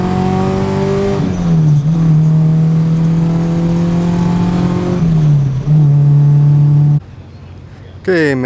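A K24-engined FR-S drones steadily and loud, rising and dropping in pitch as it shifts through gears while driving on a test drive after a transmission replacement, then cuts off briefly before revving again.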